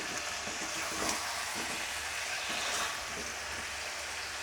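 Potatoes for alur dam are stirred in a pan, a soft, even sizzle with faint recurring scrapes of the spoon, quiet and without speech.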